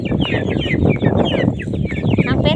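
A flock of roughly four to five hundred farmyard chickens clucks continuously and densely at evening feeding time at a rural home in Non Sung, with overlapping calls close by and a few louder squawks.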